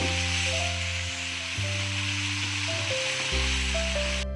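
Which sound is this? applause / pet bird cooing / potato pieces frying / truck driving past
potato pieces frying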